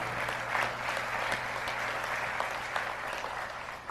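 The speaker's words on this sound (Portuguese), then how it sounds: "Você pode aplaudir ao Senhor nessa noite?" A congregation at an evening church service applauds in praise, a steady, moderately loud clapping with a few sharper claps poking through and a low hum underneath.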